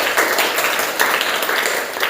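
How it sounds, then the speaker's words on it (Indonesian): A class gives a brief round of applause, dense steady clapping from many hands heard close and fairly loud for a couple of seconds. "Tepuk tangan untuk kita semua."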